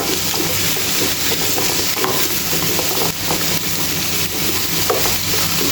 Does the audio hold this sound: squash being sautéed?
yes